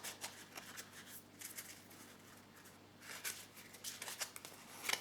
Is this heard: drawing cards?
yes